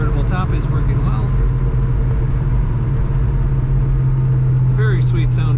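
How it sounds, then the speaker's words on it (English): A deep, steady exhaust rumble from a 1970 Pontiac GTO Convertible idles throughout in winter, loud and close, with brief faint squeaks on top near the start and end. "Very sweet sound to this exhaust."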